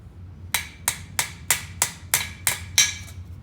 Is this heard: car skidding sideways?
no